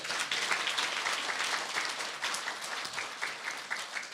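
A lecture audience claps together in a brief, dense burst of applause, steady and fairly close for a few seconds, with no talking over it.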